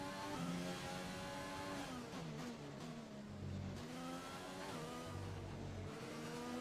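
An F1 car in the racing game F1 2020 at Singapore accelerates hard through the gears, a loud, high engine scream rising in pitch, dropping at each upshift and climbing again, with no talk over it.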